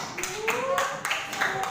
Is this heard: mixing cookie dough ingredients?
no